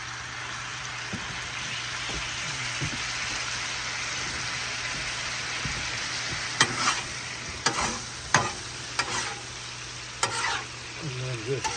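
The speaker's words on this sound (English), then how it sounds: "just mix it around in that sauce as it's cooking" Chicken frying in teriyaki sauce in a hot pan makes a steady, close sizzle, broken by several sharp clacks and scrapes as the pieces are stirred around.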